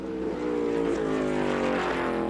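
A NASCAR race car engine screams at high revs during qualifying at a speedway, a loud sustained roar with rapid pitch wavers and stutters as it bangs against the rev limiter, heard alone without talk.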